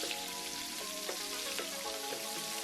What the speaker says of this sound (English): I just went in with about half a stick of butter.